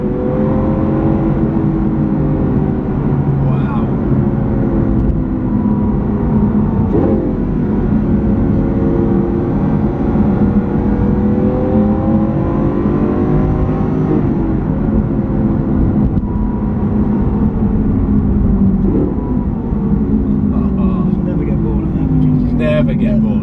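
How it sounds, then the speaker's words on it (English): Lamborghini Aventador SV with its sports exhaust on, a loud, continuous engine drone from inside the cabin that swells and eases as the car accelerates and shifts, with a person talking over it. "so you can see what this car looks like on the road, from the inside, and with the sports exhaust on"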